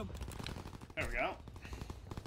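Rapid automatic gunfire rattles through a Call of Duty: World War 2 battle, with a dense burst of shots and a voice shouting briefly over the middle of the clip.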